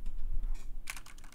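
Close-miked typing on a computer keyboard, a quick cluster of crisp key clicks that begins after a moment of quiet, heard alone.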